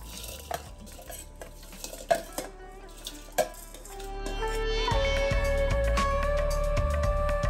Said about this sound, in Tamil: ஸோ இப்போது இதில் நம்ம ரைஸ் அண்ட் பருப்பை உள்ளே கொட்டிடலாம்.